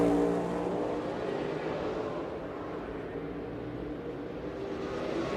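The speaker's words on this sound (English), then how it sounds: "Blaney flashes by pit road here on the front stretch at Mexico City." A NASCAR Cup race car runs along the front stretch past pit road at Mexico City, a steady broad engine roar heard from a distance without a sharp pass-by peak.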